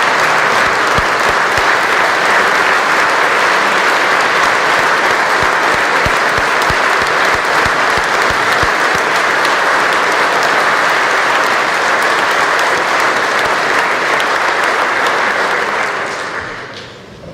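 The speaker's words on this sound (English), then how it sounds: "Take the applause now" A large audience applauds steadily for staff at the 2018 Kansas State of the State address in the legislative chamber, a loud, dense wash of clapping that holds for about sixteen seconds before trailing off.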